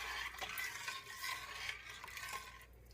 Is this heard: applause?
no